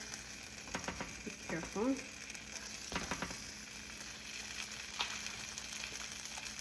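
Philly cheesesteak meat sizzles steadily in a hot pan after being flipped, a constant frying hiss with scraping clicks of a spatula, while a voice speaks briefly.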